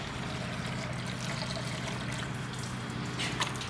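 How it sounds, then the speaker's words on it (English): Coolant poured into a Corvette C4 engine in a garage, a faint steady trickle and gurgle of liquid running continuously under low background noise. "let's add some coolant."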